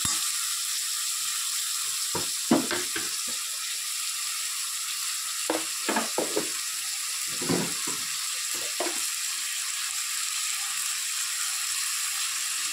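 Onions, green chillies and curry leaves fry with salt and turmeric in hot oil, a continuous hiss of sizzling broken by several sharp scraping clacks of a spoon stirring the pan, with no talking.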